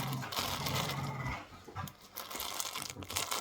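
Two excited dogs at play indoors, panting and scuffling close by with bursts of rustling and crinkling, a continuous busy texture with no talking.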